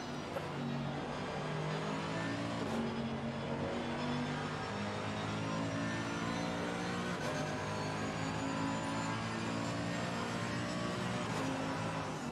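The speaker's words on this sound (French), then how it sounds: "Ce bruit de cette Mercedes, hein, c'est quelque chose." A Mercedes race car engine in Assetto Corsa Competizione at the Paul Ricard circuit drones steadily from onboard, with layered harmonic tones that shift in pitch as the revs rise and fall.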